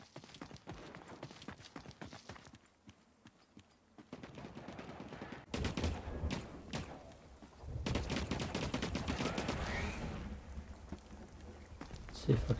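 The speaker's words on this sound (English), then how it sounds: "I hear shots." Gunfire in The Cycle: Frontier, with scattered sharp shots and quick bursts popping at moderate distance over a busy ambient background, some stretches louder and denser, with a voice talking now and then.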